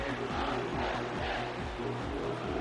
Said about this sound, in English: And the crowd is getting into it.